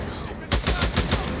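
Rapid bursts of gunfire in the video game Days Gone: after a short pause, a loud string of about six closely spaced shots.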